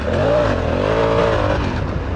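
A Honda Africa Twin motorcycle engine revs hard and steadily throughout, a close, loud, continuous snarl with its pitch climbing and dipping as the throttle works, running stock on off-road tyres with no voices.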